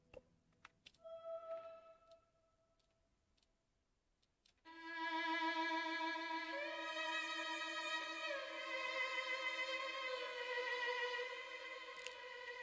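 Sustained violin sample with reverb and delay effects, used for a beat, swelling in after a quiet start with long bowed notes and a wide, washy tail that gently shifts pitch.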